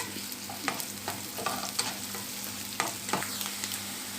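Onion frying in a pan with garlic about to go in, a steady soft sizzle under a run of sharp scraping stirring strokes at an uneven rhythm, close and moderately quiet, no talk.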